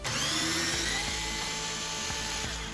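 A power driver unscrews long 2.5 mm screws from an Arrma Typhon 3S RC car, giving a steady, close motor whine with a few faint clicks through it and no talking.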